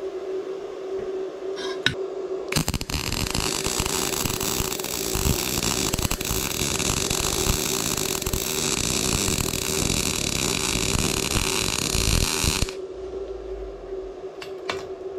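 A Bestarc MIG145 multiprocess welder MIG welding with shielding gas gives a loud, steady crackling hiss that runs unbroken for about ten seconds. Quieter hum comes before and after it.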